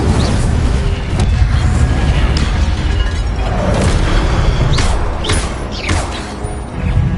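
The Incendio fire spell is cast in Hogwarts Legacy amid combat, a loud, dense roar of fiery bursts and booming impacts that runs continuously with a few sharper cracks near the end.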